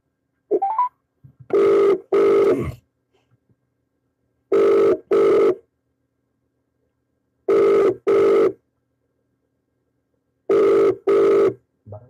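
A telephone rings for an incoming call in four double-ring bursts spaced evenly about three seconds apart, loud and alone with silence between.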